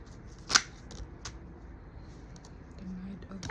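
Tarot cards being shuffled, a brief sharp riffle near the start followed by quieter soft card handling and a faint brush at the end, with a voice barely present.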